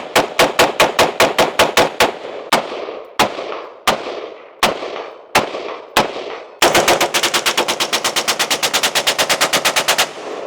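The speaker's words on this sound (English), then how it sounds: "Let's keep shooting." A $349 semi-automatic rifle fed from 29-round magazines fires a rapid string of sharp, loud shots. Slower, evenly spaced single shots follow, then another fast unbroken volley to the end.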